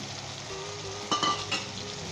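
Green chillies and mint hit a pan of tomato boondi masala, a low steady sizzle that briefly flares louder with a couple of sharp bursts as they go in, close by with no voices.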